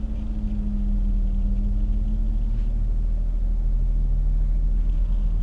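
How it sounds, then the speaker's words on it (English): Traffic passes on a road beside a parked 2016 Audi A6 Avant, a low steady rumble of engines and tyres rising and fading at moderate distance, with no talking. "cars just never stop coming"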